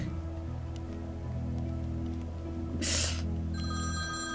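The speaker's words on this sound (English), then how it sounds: "Oh, that's my phone." A telephone rings during an animated Bratz holiday special, a steady electronic ringing tone over a sustained musical background, with a brief burst of noise partway through.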